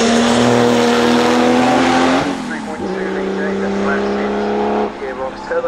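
A turbocharged Porsche sweeps past at reduced speed on a hill climb, its loud engine note holding a steady pitch, then dropping and changing as it goes by, with a commentator's voice over the top.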